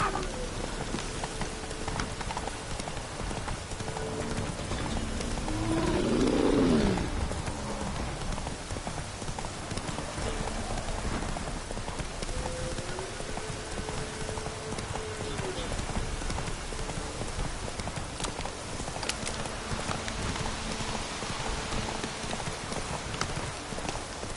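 Roach, a horse in The Witcher 3 video game, trots with steady rhythmic clip-clopping hooves under rain-like ambience, with a voice speaking briefly partway through.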